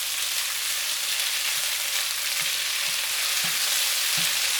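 Beef for udon noodle stir fry sizzling in a pan with olive oil, a loud continuous close hiss with soft intermittent stirring knocks.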